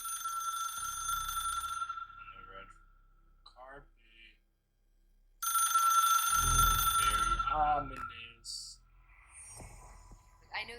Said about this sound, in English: Red phone.